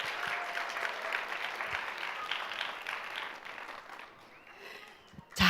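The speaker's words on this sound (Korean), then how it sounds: "한 학기 동안 열심히 노력한 모든 친구들에게 박수 쳐주시기 바랍니다." Audience applause fills an end-of-semester graduation ceremony for an English reading program's students, a steady dense patter of many hands that thins out toward the end before a brief louder burst.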